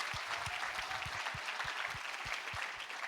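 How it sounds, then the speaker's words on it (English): An audience at a Zoroastrians in Business event gives a speaker another round of applause, steady mid-level clapping with rhythmic low thumps, as if some listeners are stomping or clapping in time. "Let's give him one more round of applause."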